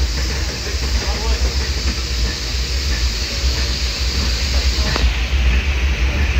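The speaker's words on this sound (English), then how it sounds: "It's a very heavy train, so I got to start applying the brakes." A heavy Disneyland train rolls along with a continuous low rumble and steady hiss, with faint rail clatter, loud and close throughout.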